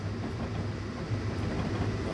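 BNSF ES44 DC diesel locomotive pulling a train over a small bridge on Marias Pass in Train Simulator 2016, a steady low rumble with faint rail rhythm throughout.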